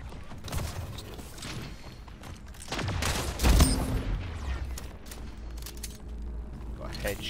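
Gunfire in the arena shooter Splitgate: bursts of shots crackle throughout, with a loud heavy impact near the middle, layered among game effects and a background voice.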